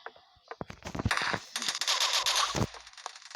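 Rapid gunfire in a war video game crackles in bursts of close, loud shots and automatic fire, building into a dense barrage before cutting off.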